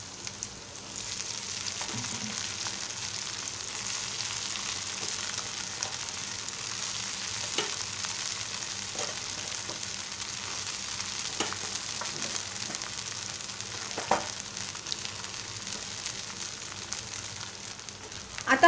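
Poha (flattened rice) fries in a pan as it is stirred, a soft, steady sizzling hiss with occasional light clicks and scrapes over a low background hum.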